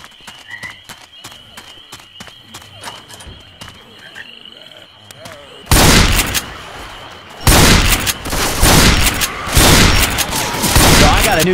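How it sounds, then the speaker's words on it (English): Gunfire in Left 4 Dead 2 on the Swamp Fever campaign, first scattered sharp shots over swamp frog croaks, then bursts of loud, rapid, close automatic fire that dominate the rest of the scene. "Fire, let's hear some real shots."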